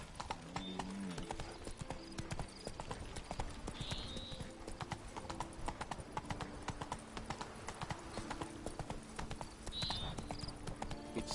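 Hooves of the horse Roach clip-clopping at a steady walking rhythm in The Witcher 3, close and continuous, with game background sound and a short line of talk.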